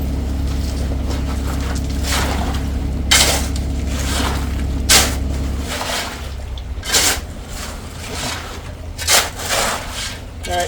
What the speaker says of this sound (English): I'm just filling in this tray with gravel now.